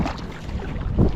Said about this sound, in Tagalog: Ngayon, sagwan naman, papunta sa bangka.